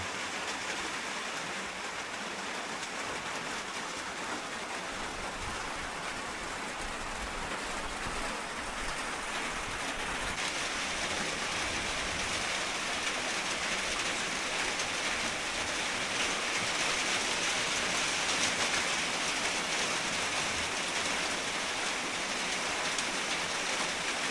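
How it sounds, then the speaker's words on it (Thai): Steady rain pours down without pause, a dense hiss of drops on surfaces, close and even throughout. "ฝนตก"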